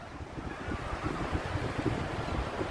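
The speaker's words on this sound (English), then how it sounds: "But hey, this is the Atlantic Ocean." Atlantic Ocean surf at Wrightsville Beach near a fishing pier, a soft wash of waves mixed with gusting wind buffeting the microphone, faint and continuous with no talking.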